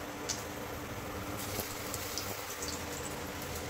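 Green chillies stuffed with ground garlic and coated in besan batter fry in hot oil, giving a steady, close, unbroken sizzle with faint crackles and no voices.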